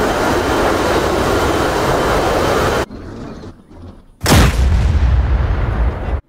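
Anti-aircraft flak bursts against a fast jet in a video game recreating the WWII Operation Tidal Wave raid: a loud, continuous roaring rumble cuts out briefly, then a heavy booming blast crashes back in, close and dominant.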